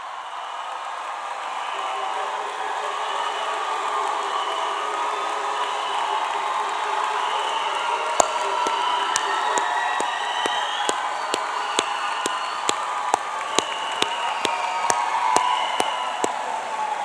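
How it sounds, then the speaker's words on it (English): At the John J. Duggan Academy 2025 graduation ceremony, a large crowd sustains a long roar of applause and cheering, with sharper individual claps and pops breaking through in the second half. "Let us have one more final applause for the class of"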